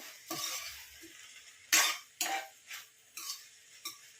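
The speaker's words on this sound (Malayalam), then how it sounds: "നന്നായിട്ടൊന്ന് മിക്സ് ചെയ്ത് കൊടുക്കാം." Spoon scraping and stirring through mango and ivy gourd thoran in a pan, a series of short, close, clattering strokes with brief pauses between them and no talk.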